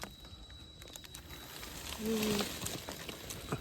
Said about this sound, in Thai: เสียงฝน